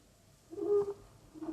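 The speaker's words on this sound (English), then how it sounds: "Nothing but the owls and the clock striking midnight." Soft hooting owl calls, a short low tonal hoot swelling and fading, heard alone and faint as a radio theatre sound effect in a quiet night scene.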